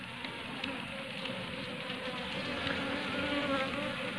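Honey bees buzz around a hive box set in a garden, a continuous close, dense drone of many insects with a faint voice in the background.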